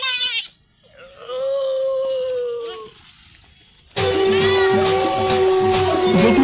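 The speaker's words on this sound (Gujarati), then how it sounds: "બકરો લાવે બે બે હા" A goat bleats in long wavering cries, loud and close, repeated over several seconds and joined by further overlapping bleats near the end.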